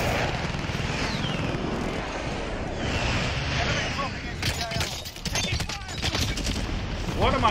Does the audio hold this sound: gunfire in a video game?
yes